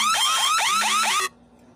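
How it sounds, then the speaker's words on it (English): A loud electronic alarm sounds in a shopping mall, giving repeated rapid warbling, descending chirps over a steady tone for about a second and a quarter, then cutting off abruptly into quiet room tone. "Yan yung alarm ko."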